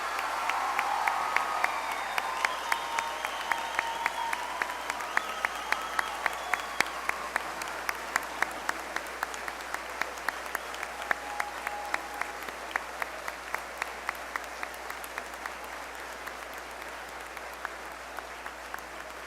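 Sustained applause from a crowd at a high school graduation ceremony, honoring students entering military service, with dense clapping and distinct individual claps heard at a moderate distance.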